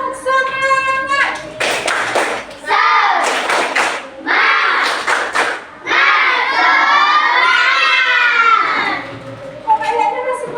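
A third-grade class of children in a classroom performs a rhythmic spirit clap, loud chanted shouting in several bursts punctuated by claps and thumps, with short pauses between phrases.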